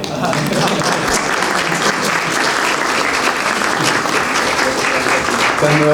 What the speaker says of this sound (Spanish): Y un aplauso para Mercedes, ¿no?